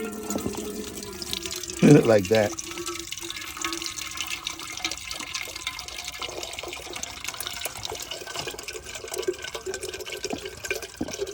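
Water runs from a portable sink faucet, pressed to release it, in a steady stream through most of the clip, outdoors in the woods, while a voice speaks briefly near the start.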